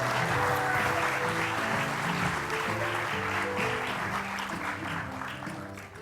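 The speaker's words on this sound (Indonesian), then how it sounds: "Panji, tepuk tangan dulu buat Panji." A studio audience at a television talk show applauds a guest, a dense sustained patter of clapping mixed with music that slowly fades.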